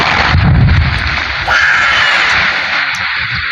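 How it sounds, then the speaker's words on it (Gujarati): Loud explosion blast near a farm, a heavy low boom at the start that rolls into a long sustained roar and rumble, very loud and continuous. "તમે જોઈ શકો છો વિડીયોમાં બહુ જોરદાર ધમાકો હતો ભાઈ"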